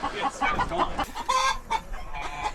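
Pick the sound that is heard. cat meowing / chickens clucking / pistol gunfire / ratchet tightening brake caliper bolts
chickens clucking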